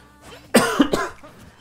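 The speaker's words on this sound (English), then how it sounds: "Excuse my coughing, ladies and gentlemen." A couple of quick, harsh coughs from one person, close and fairly loud, with faint background noise around them.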